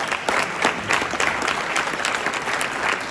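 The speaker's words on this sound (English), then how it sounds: "How about a round of applause for our CEO?" Audience at an awards event honoring a broadcaster claps for the CEO, brisk and full applause filling the room for a few seconds with no talking over it.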